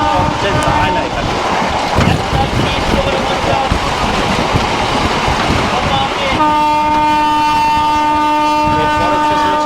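A passenger train runs through a halt station without stopping, its rumble and rattling wagons loud and continuous, with a horn-like steady tone sounding near the end and wind buffeting the microphone throughout.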